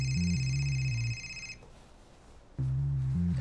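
A mobile phone plays a looping electronic ringtone melody, loud and near, cutting off for about a second of quiet room noise before resuming.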